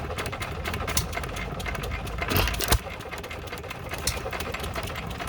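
Antique hit-and-miss engine running at a Midland, Michigan antique tractor club show, giving a steady rapid mechanical clatter with a couple of louder thumps, heard fairly close without talk.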